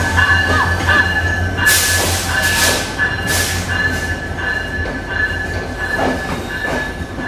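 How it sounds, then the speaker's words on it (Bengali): Broad gauge diesel-electric locomotive 6317 hauling the Padma Express intercity train in Bangladesh, heard as a steady, loud rolling rumble with bursts of high wheel squeal and hiss, and no voices. "Broad gauge diesel electric locomotive."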